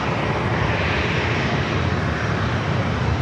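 Southwest airliner taking off from runway 27 at San Diego airport, its jet engines producing a loud, steady, broadband roar that fills the whole moment without letup.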